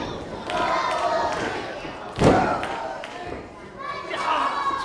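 A wrestling crowd in the Impact Arena roars steadily throughout, cheering for a fighter at the opening bell, with a sharp thud near the middle and loud, dense voices blending together.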